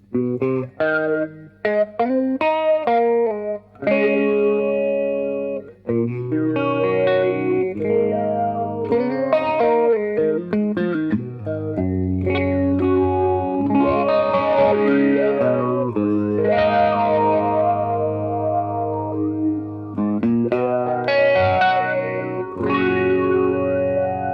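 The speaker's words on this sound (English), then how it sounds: "a Formant filter is designed to sound like a kind of vocal effect" Electric guitar through a Strymon Mobius pedal's formant filter, notes sweeping with a vowel-like, talking, wah-ish quality across a long melodic passage, steady and close.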